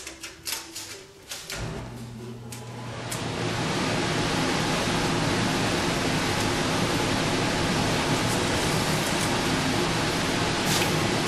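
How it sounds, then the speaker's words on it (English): A household furnace kicks on during a woodworking job installing molding on a display case, its loud steady broadband roar swelling in after a few quiet seconds and then holding constant and close, masking everything else. "So that was the furnace that came on too, so that thing makes a lot of noise."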